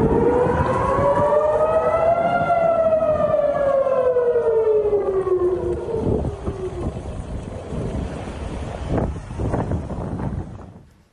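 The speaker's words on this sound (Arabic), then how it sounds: "كما انطلقت صفارات الإنذار في منطقة البحر الميت وصحراء النقب وديمونه" An air raid warning siren wails across the Dead Sea and Negev region of Israel, a loud rising and falling tone that fades out, with wind buffeting the microphone throughout.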